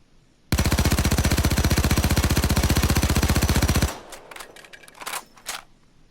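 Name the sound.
P90 gun firing, from a video game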